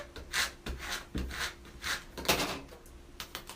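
Squeegee pressed and dragged over a design laid on sticky tape for mug decorating, a series of close, soft rubbing strokes, each a brief scraping swish with short pauses between, no voices.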